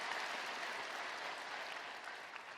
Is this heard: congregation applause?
yes